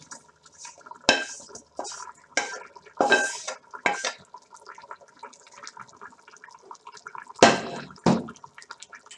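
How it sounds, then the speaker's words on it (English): Potatoes are added to a pot of Gheymeh stew with brown rice, producing a series of irregular clattering knocks and scraping stirs against the pot, clear and close, separated by quiet pauses. "I'm going to add my potatoes."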